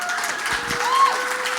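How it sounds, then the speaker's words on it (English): Brief, fairly weak round of applause from an audience at an education and workforce summit, a soft spread of clapping with a faint tone running beneath it. "I just want to hear a quick round of applause"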